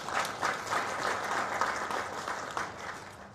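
An audience claps for arriving delegates at an association's office event, with brisk, steady applause from a moderate crowd lasting a few seconds and no talking over it.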